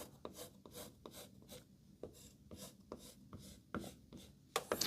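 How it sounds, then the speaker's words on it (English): A palette knife scrapes and pushes watercolor paint across paper in a steady series of soft, close rasping strokes, with a slightly louder scrape at the end. "with the palette knife is we're gonna start pushing some paint around for that smooth area"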